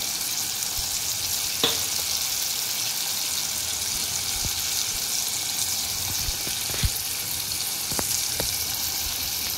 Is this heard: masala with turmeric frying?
yes